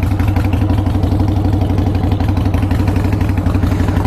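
A motorcycle engine idles close by with a steady, fast low thumping pulse and mechanical clatter, running evenly throughout with no talk.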